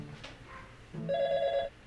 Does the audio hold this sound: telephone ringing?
yes